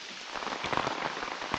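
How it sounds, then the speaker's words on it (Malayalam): Rain falls in a steady, dense hiss on the surfaces nearby, with scattered drops pattering through it. The wash of sound stays even and fairly soft throughout. "മഴ നിന്നിട്ട് പോരെ?"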